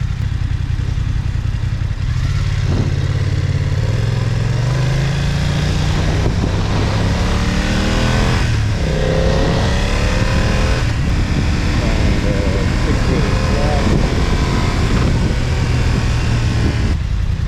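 A motorcycle on a commute home after work, riding steadily with constant engine drone, gear shifts and rising revs, strong wind rush over the helmet mic throughout, no talk.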